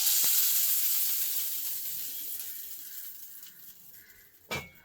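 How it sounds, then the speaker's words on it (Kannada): Mung bean (hesarukalu) dosa batter sizzling steadily on a hot pan, a bright continuous hiss that slowly fades, followed by a brief clink of a utensil near the end; no talking. "ದೋಸೆ ಹುಯ್ತಾ ಇದ್ದಾರೆ."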